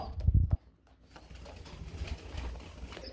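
A pair of silver khaki pigeons coos softly and close by, a low murmuring burst early on, then faint bird sounds under a steady background murmur.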